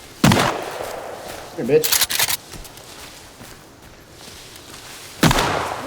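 Gunfire in the survival video game Sons of the Forest: a sharp shot at the start, a short cluster of bursts around the middle and another loud shot near the end, with a player talking over the action.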